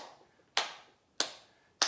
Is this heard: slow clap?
yes